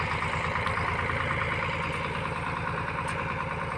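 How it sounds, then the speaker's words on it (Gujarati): A tractor engine idles steadily, readying a threshing machine for a chickpea harvest on a farm; a continuous low throbbing drone with a fast even pulse holds constant throughout, with no voices over it. "ટ્રેક્ટર આવી ગયું છે"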